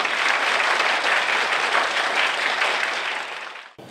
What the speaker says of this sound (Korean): 수고한 우리 대학원생들한테 박수를 쳐주시면 감사하겠습니다